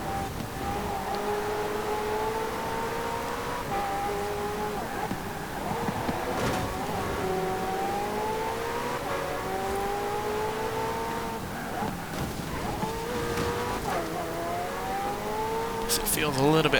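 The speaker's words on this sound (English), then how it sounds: "It seems to rev a lot quicker, get to those revs a lot quicker as well in the process." A race car engine in the Forza Horizon 4 video game revs steadily and loudly, its droning pitch climbing and dropping back again and again as it runs through the gears, continuous for the whole stretch.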